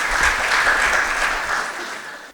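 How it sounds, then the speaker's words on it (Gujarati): Crowd at a school alumni gathering claps warmly for a guest being welcomed, a short burst of dense, even applause that fades at the close. "જોરદાર તાળીઓથી વધાવીએ."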